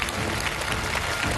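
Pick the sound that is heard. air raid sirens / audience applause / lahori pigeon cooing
audience applause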